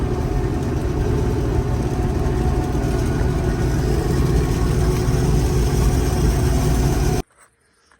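John Deere 1075 combine harvester engine running in a field, a loud, steady, close rumble that cuts off abruptly near the end.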